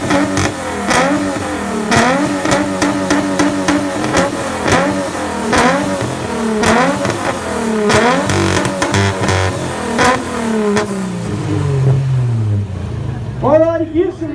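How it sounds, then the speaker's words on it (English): Car with an SR20 engine revving hard at a rev battle during a Melbourne car meet, with repeated loud throttle blips and roaring pulls close by, while people talk and shout over it. "Give some noise for the SR20, come on!"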